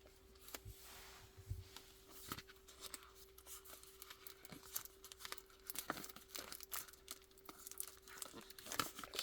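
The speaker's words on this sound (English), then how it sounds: "Just gonna grab some product and start ripping." Trading card packs, including 2025 Invincible blaster boxes, are torn open close up, with steady crinkling foil, sharp ripping and rustling handled wrappers running throughout at moderate volume, accompanied by a faint constant hum.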